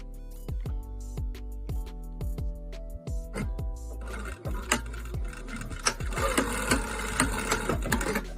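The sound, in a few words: sewing machine stitching back and forth on a scrunchie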